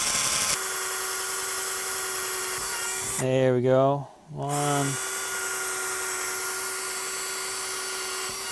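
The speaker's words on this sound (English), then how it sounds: "so I can drill the holes for the back brace" A power drill bores holes in wood for the back brace of a chair built from used skis, whining up in two short rising bursts over a constant background hum, with a voice speaking briefly.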